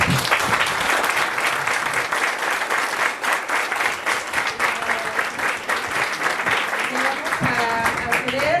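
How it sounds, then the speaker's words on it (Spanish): Sustained applause from an audience of students at a university lecture welcoming speaker Alfredo Guerrero, a dense steady wash of clapping lasting several seconds, with faint voices rising through it near the end. "un fuerte aplauso para Alfredo Guerrero"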